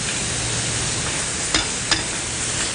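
Pork mince browning in a pan, a steady close hiss of sizzling broken by two brief scraping stirs near the middle.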